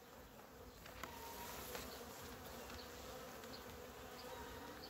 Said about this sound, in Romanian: Albina